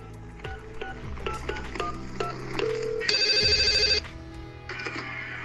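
A telephone sounds its keypad tones in quick succession, then gives a loud, steady electronic ring burst, a short pause, and a second ring beginning.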